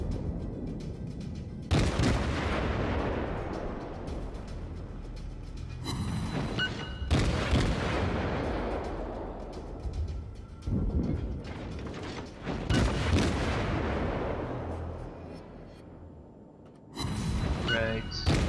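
Heavy naval gun salvos from warships in World of Warships, a series of loud booming blasts every few seconds, each rolling off in a long decaying rumble.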